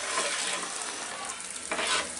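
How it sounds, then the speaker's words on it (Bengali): Boiled eggs fry in a pan of spiced masala for dhaba-style egg curry, giving a continuous loud sizzle with scraping stirring strokes and a brief flare of hissing near the end. "এর মধ্যে আমি ডিমগুলা দিয়ে এখন একটু আমার ডিমগুলাকে ভেজে নিতে হবে।"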